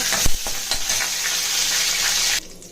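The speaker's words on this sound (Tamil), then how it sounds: "இப்போ இதில் கருவேப்பிலை ஆட் பண்ணிக்கோங்க." Curry leaves hit hot oil while tempering for a broken rice upma, setting off a loud, close hiss of frying with a few spoon-stir clatters at the start before the sizzle cuts off abruptly near the end.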